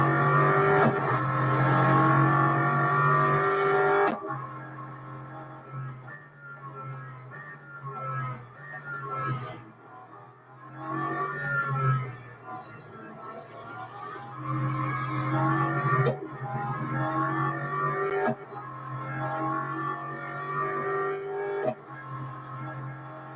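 A race car engine in the video game Real Racing 3 drones and revs continuously, with repeated gear changes, rising and falling pitch sweeps and occasional tire squeal as the car brakes and accelerates around the track, with no talk.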